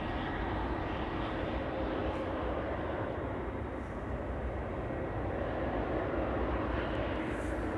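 German Airways Embraer 190 jet at Amsterdam Schiphol, dotted German flag on the tail: a continuous, even roar of jet engines fills the whole stretch at moderate distance, with no talking over it.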